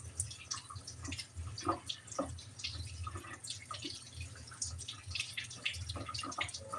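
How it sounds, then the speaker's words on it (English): Tomatoes rinsed under running water, faint dripping and splashing with soft handling noises, quiet and close, with no speech. "I'm going to give them another rinse."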